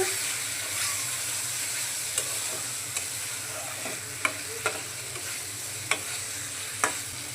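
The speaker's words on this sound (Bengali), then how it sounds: "এখন বেজে রাখা মাছগুলো দিয়ে দিচ্ছি মাছের সাথে মশলাটাকে একটু কষিয়ে নিচ্ছি" Pieces of fried fish cooking with spice paste in a pan, a steady close sizzle and hiss broken by occasional light scrapes and taps of a spatula stirring.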